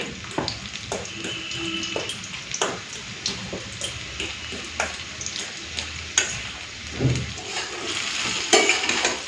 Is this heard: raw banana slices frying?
yes